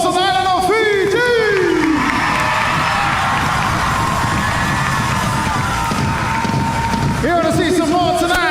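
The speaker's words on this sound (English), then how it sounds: "round of applause on the island of Fiji" Applause and cheering from an audience at a live Polynesian club performance, a dense, loud wash of clapping and crowd noise, with a shouting voice at the start and again near the end.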